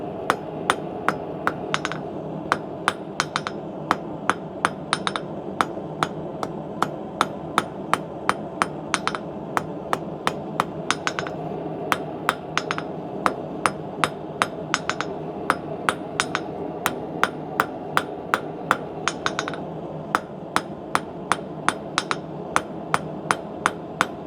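Steady metal hammering as a candle holder with a heart-shaped handle is tapered, sharp ringing blows repeating at a quick even pace for the whole stretch, loud and close with no talking.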